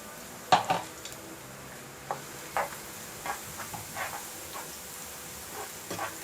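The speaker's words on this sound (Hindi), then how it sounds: "फिर सब मसाले मिलाने के।" Spoon stirring spices into garlic frying in a little oil for Kokani-style lemon pickle, soft scraping clinks against the pan over a faint steady sizzle, quiet and close with irregular strokes and no talk.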